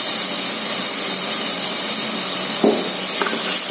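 Vegetables stir-fried in a pan with soy sauce and chilli sauce for a restaurant-style Chinese Manchow soup, giving a steady, loud hiss and sizzle throughout, with a couple of brief clanks near the end.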